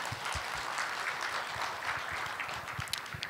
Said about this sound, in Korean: 우리 하나님께 영광의 박수를 돌립니다.